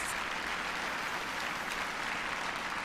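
Steady applause from a crowd at an equestrian event in the Let's Ride Riding Star video game, a continuous, even wash of clapping held at a moderate level with no voices.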